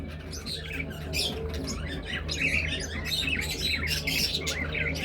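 Several birds in a cage chirp, tweet and squawk steadily, a pair brooding on four eggs among them, with a low background hum throughout and no talking.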